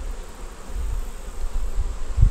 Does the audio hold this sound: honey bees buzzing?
yes